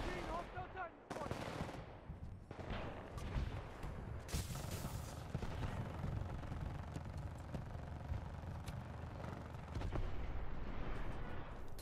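Dense, sustained machine-gun and heavy weapon fire from a Titanfall 2 battle, with rapid bursts, sharp broadband blasts and explosions layered continuously over rumbling background, loud and close throughout, with occasional voices mixed in.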